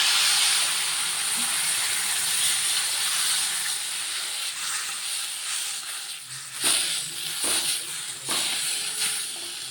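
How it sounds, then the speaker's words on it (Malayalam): Vinegar poured into a hot pan of mango-ginger pickle with asafoetida gives a steady, close sizzling hiss that fades slightly, with a few sharp spatter pops near the end. "ഇനി നമുക്ക് ഇതിനകത്തോട്ട് കുറച്ച് വിനാഗിരി ഒഴിക്കാം"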